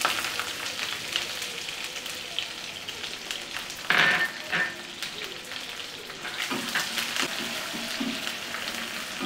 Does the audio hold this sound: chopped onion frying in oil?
yes